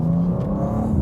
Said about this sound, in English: you do get a satisfying woof on the upshifts as well